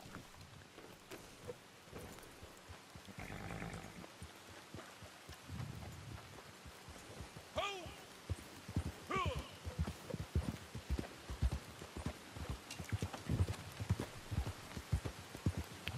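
A Black Overo Mustang in Red Dead Online clip-clops along with a steady run of hoofbeats, mixed with rain-like patter and other game sounds.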